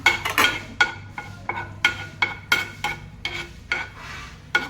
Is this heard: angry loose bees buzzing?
no